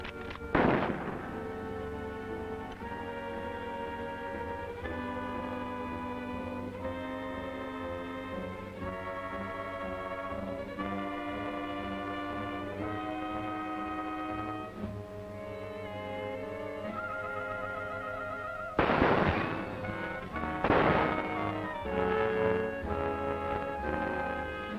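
Gunshots in a 1948 radio drama: a sharp shot rings out near the start, then two more crack out close together later, all over a steady bed of orchestral music.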